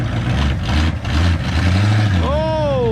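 A 1964 Ford Fairlane 500 hardtop's engine rumbles and revs as the old car lurches into motion, loud and near, with excited voices talking over it.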